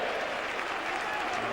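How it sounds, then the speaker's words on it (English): Steady applause from Millwall fans in a football stadium during the 1992 Millwall v Wolves match, a dense, continuous clapping from a large crowd throughout. "The Millwall fans have applauded your decision as well"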